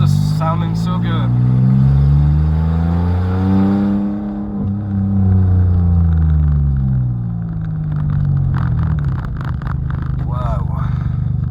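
Three-cylinder car engine fitted with a Thunder exhaust header, revving up and down in loud sweeping rises and falls, the throaty tone close by, with someone talking over it.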